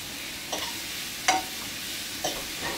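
Food is stirred and shifted around a frying pan, producing a soft continuous sizzle with a few brief scraping strokes, fairly faint and with no voices.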